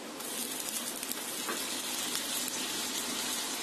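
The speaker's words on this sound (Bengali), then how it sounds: "এখন আমি মশলাগুলি দিয়ে দিচ্ছি 1 টেবিল চামচ পেঁয়াজ বাটা" Onion paste and spices sizzle steadily in hot mustard oil, a dense, even frying hiss that holds close and loud throughout with no pauses.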